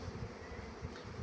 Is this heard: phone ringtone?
no